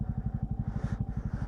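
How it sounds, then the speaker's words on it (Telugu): A motorcycle engine labours on a rough, snowy mountain road in Ladakh at -3°C and thin air, its low, rapid firing pulses thudding close and steady under load. "బైక్ చాలా కష్టపడుతుంది ఇక్కడ"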